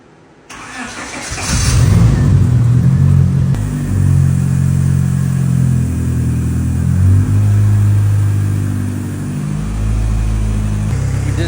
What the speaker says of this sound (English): Some test driving.